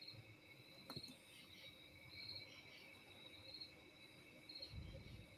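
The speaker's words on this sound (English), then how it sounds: "can you guys hear the crickets?" Crickets chirp outdoors on a summer evening in a quiet, faint, steady pulsing trill that carries on throughout, with soft background rustle and no speech.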